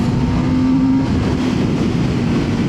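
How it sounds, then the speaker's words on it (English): A Kawasaki ZX-10R Ninja motorcycle engine (2025) roars loud and close with a strong induction howl, holding a steady note before easing off slightly, with no talking. "The noise from that engine, the induction noise, is so addictive."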